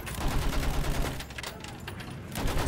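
Dense, continuous gunfire with bullets striking a tank in the WWI shooter Battlefield 1, a steady rattle of rapid impacts that eases in the middle and picks up again.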